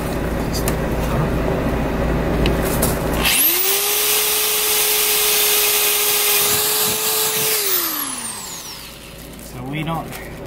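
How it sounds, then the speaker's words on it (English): A power drill bores holes through a metal patch plate during bus body repair, one steady high-pitched run of about four seconds that spins down at the end, close and loud over a noisy shop background. "So we're gonna drill some holes."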